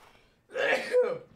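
A single sharp sneeze bursts out close to the microphone after a moment of near silence, with a quick two-part explosive shape.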